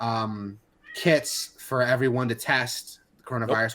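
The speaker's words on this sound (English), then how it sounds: "That's my cat in the background." A pet cat meows in the background of an indoor recording, its cries mixed in with and partly masked by someone speaking steadily over it.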